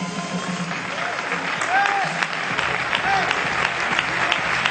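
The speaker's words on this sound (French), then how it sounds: "Il est bien applaudi." An audience claps steadily through a silat martial arts demonstration by a teenage performer, with sustained applause at moderate distance and a few voices heard faintly under it.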